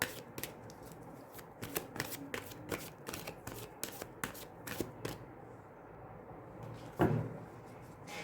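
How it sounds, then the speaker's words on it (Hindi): Oracle cards slide and snap together in a quick run of crisp, rhythmic riffles and taps, close up and alone, easing into a brief pause before a final soft thump. "अब हम एनर्जी ऑरिकल से भी यहाँ से कुछ कार्ड्स जो हैं वो ले लेते हैं"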